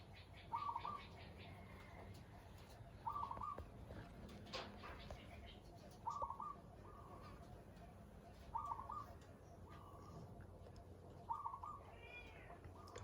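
Zebra doves coo in a series of short, repeated calls roughly every two to three seconds, spaced evenly and moderately close, heard over steady low background noise during a Thai bird-trapping session with a cage trap.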